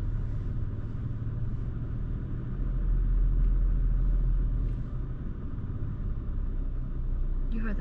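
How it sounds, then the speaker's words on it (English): A truck engine rumbles low and heavy beside a wooded road, swelling louder in the middle and then easing back while staying present throughout. "We just heard a truck sound, and there's no trucks driving past us."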